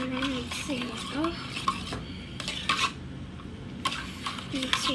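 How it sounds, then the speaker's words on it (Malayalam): Food gets mixed with salt in a pot, with scraping spoon strokes and metallic clinks against the pan coming in irregular bursts, close by, while a voice talks intermittently. "അത് നമ്മൾ ഉപ്പിട്ട് കൊടുത്തിട്ട് നല്ലോണം മിക്സ് ചെയ്യാം."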